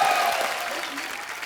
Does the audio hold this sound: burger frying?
no